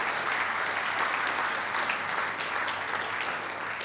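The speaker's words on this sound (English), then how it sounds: "please give yourselves a massive round of applause for having a smile and a laugh for me." A large audience gives sustained applause at a holiday show: a broad, even wash of many hands clapping that holds steady throughout, with no voices over it.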